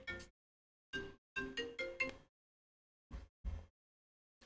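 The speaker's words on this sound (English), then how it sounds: "let me turn this phone off" A phone ringtone sounds in separate bursts of bright electronic tones with gaps of silence between them, heard alone without talk.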